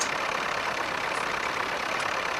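A farm tractor engine runs steadily on a wet day in 1958, a continuous even rumble with no breaks or talk.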